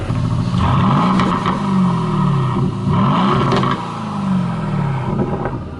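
A luxury car's exhaust rumbles close by while it is driven, its engine note rising and falling in repeated revving sweeps before easing off toward the end.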